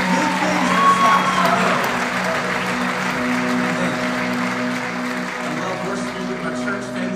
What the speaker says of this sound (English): Come on, let's applaud God for what he's done for today.